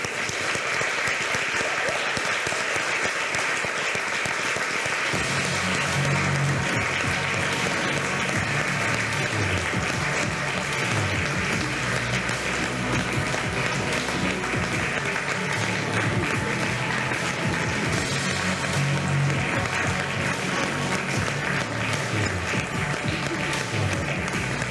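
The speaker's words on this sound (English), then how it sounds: "I think we should clap." Sustained clapping from a conference audience at a European Women in Games special awards ceremony, loud and continuous for the whole stretch, with a low hum of voices underneath.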